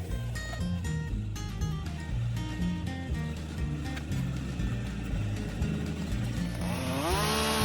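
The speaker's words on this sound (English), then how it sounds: "you must first cut a wedge out of the stump immediately below the hinge" Chainsaw cutting a wedge from a tree stump while dealing with a hung-up tree in pre-commercial thinning, the engine loud and close, churning steadily under load before revving up sharply near the end.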